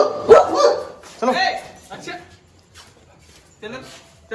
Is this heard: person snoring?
no